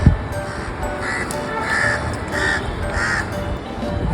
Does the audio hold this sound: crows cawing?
yes